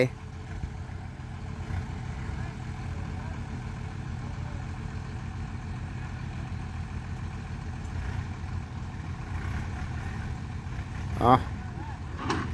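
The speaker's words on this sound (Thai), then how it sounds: "รถไถ" A tractor engine runs steadily while digging into soil, a constant mid-level mechanical drone with a brief sharp clatter near the end.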